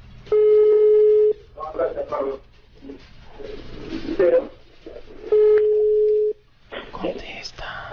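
Two rings of an unanswered telephone call sound close through a phone speaker, each a steady electronic tone about a second long, with people talking between and after the rings.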